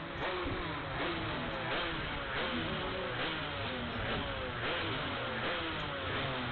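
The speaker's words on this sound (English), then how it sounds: "You can hear the drivers revving their engines outside the window." Several racing kart engines rev continuously before the start of a Southern Championships round at a kart club circuit, a dense, buzzing, fluctuating drone heard from a distance through a window, with no talk.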